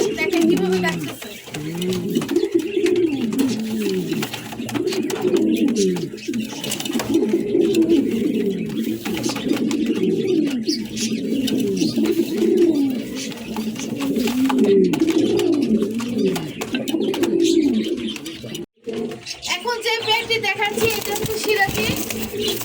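A male pigeon coos steadily and rhythmically for a long stretch, close by, with repeated throaty calls layered over one another.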